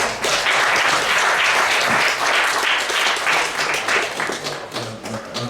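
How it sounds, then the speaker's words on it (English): Audience applause at a colloquium on Marikana, loud, dense clapping sustained across the clip with some irregular taps, no talking. "I'll take that as a clap for all the participants and contributors"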